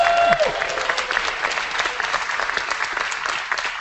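Audience applause for Flutterly, the crowd-favorite team at a startup weekend pitch final, rises in a dense, steady wash of many clapping hands that keeps going at full strength for the whole stretch, with a brief tonal trace near the start.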